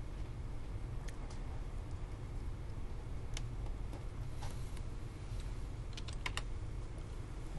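Sparse, faint keystrokes on a computer keyboard while drafting in CAD software, scattered single clicks and short bursts over a steady low background hum, with no talking.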